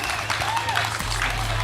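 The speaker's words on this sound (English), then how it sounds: "give him a round of applause" Dense applause from a crowd at a sprint car racing event stage show fills the whole stretch, steady and moderately loud, with a low hum underneath.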